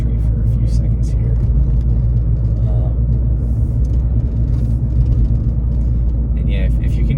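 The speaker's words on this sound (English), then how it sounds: "if you can hear my car rattle a little bit, I apologize" Steady low engine and road rumble inside a moving car, with faint intermittent rattles and small squeaks from a loose spare tire in the back, heard under continuous talking.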